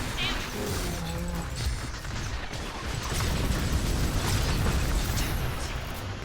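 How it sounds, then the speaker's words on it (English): Explosions go off in the video game Sanctum, a run of booming blasts and crashes over a dense rumbling backdrop, with bursts swelling louder in the second half. "Explosions for everyone."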